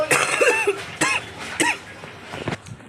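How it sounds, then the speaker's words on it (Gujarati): A person coughs several times in short, harsh bursts at close range, with the coughs spaced about half a second apart and quieter throat noises trailing off afterward. "ઉધરસ થઈ ગઈ છે."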